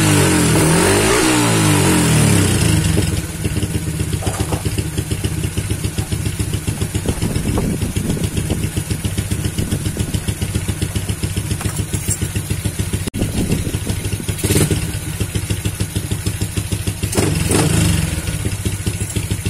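Motorcycle fitted with a UMA Racing carburetor, its engine revving loud and close, rising through sharp throttle blips then settling into a fast, pulsing idle with repeated revs.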